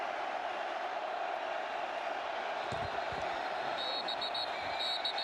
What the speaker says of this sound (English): Crowd gets loud.